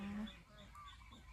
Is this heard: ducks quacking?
yes